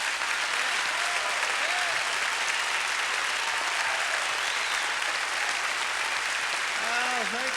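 Audience applause at a gospel concert, a loud, continuous wall of clapping that holds steady throughout, with a few voices calling out beneath it.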